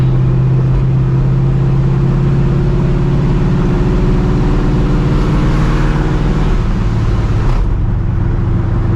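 A cammed, Procharged 1999 Ford Mustang GT cruises on the road, its engine giving a loud, steady, low drone from inside the car with a slight shift in pitch near the end and no talk.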